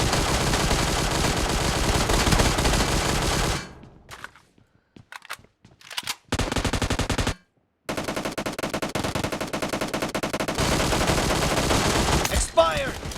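Rapid automatic gunfire in a shooting game, dense bursts of fire that cut out into short silences and quieter clicks before heavy firing resumes, loud and continuous.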